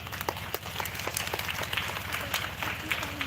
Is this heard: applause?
yes